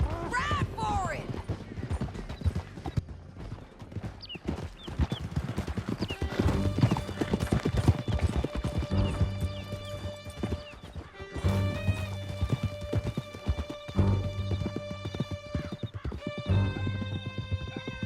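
Horses gallop with steady, loud hoofbeat clip-clop in the Red Dead Redemption 2 video game, joined by neighs and whinnies, under game music and spoken voices throughout.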